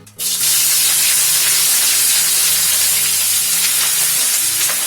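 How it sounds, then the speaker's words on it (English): Onion dropped into hot oil bursts into a loud, sudden sizzle that settles into a dense, steady frying hiss, close and alone, while cooking cauliflower jollof. "So it has heated up, so I'm going to fry the onion."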